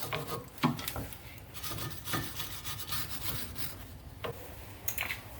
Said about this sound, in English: I get a wire brush to clean up all the crust.